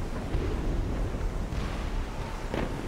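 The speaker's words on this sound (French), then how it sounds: "Des tirs de canon, au cœur de la brume." Dull, booming cannon blasts roll out of a constant low rumble in fog in Assassin's Creed Rogue Remastered, the nearest one landing near the end, distant and muffled as if through heavy air.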